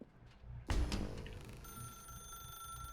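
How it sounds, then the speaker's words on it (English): A telephone rings inside the video game The Stanley Parable, starting with a sharp onset and then holding a steady electronic ring with sustained tones. No one speaks, and faint game ambience sits underneath. "Now pick up the phone"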